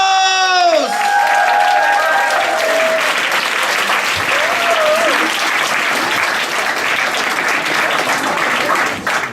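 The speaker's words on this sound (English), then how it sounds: "give a really big applause for the next comedian scientist of the night" An audience at a comedy night applauds and cheers for the next comedian scientist, loud sustained clapping from a crowd that begins just after a voice and a brief burst of music, continuing throughout with scattered cheers.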